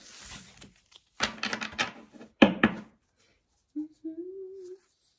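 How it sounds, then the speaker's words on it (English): A deck of tarot cards being shuffled up close, with bursts of quick riffling patter and flicking clicks, then brief pauses and a faint low hum near the end. "Just give this a couple shuffles."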